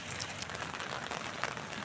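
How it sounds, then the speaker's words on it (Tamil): Heavy rain on Agatti island in Lakshadweep, a constant dense hiss of falling water with scattered close drops, loud and unbroken across the short stretch. "ஆனால் செம்ம மழை."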